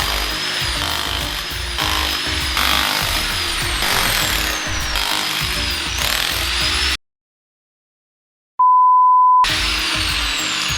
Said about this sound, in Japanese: あとは真上から削っていけば効率よくコンクリートを削っていけると思います